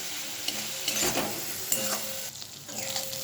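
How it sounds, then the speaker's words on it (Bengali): Spice paste thinned with water is stirred in a pan over medium heat for an elephant foot yam and prawn curry, giving a soft sizzle under repeated scraping strokes of the spoon, quiet and close. "এবার ভালো করে কষিয়ে নেব মিডিয়াম হিটে"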